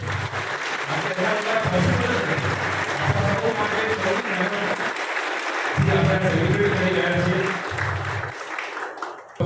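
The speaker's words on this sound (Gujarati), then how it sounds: "એક જોરદાર તાળીઓ થઈ જાય આપણા સૌ માટે" An audience at a whale shark day celebration at Mangrol port claps loudly and steadily, with a swelling crowd of applause lasting several seconds, then a fresh round, while a voice carries faintly underneath.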